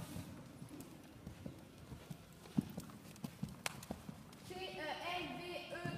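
A dressage horse moves at a medium walk in an arena, its hooves thudding in a steady, even four-beat rhythm, fairly close. A voice calls out commands in the background.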